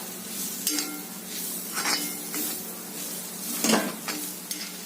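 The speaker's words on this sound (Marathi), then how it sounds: "आता आपण त्यामध्ये कारली घालूयात आणि चांगली मिनिटभर आपल्याला व्यवस्थित परतून घ्यायचंय." Bitter gourd and grated coconut stirred and sautéed in a pan: a continuous low sizzle broken by several scraping spoon strokes and one louder clank near the end, close by, no voices.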